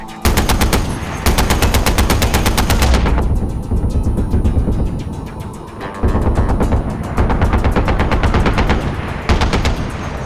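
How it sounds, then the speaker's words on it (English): A heavy machine gun fires in Far Cry 4, long loud bursts of rapid automatic fire broken by a short pause, close and dominant, with no talking over it. "Heavy machine gun time!"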